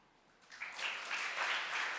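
Faint audience clapping at an industry talk, swelling in after a quiet start and holding as a soft, distant patter.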